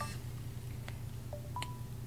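A phone being called, giving a faint electronic dialing sequence: a brief tone cluster at the start, then a couple of short clicks and two thin sustained beeps against a low background hum.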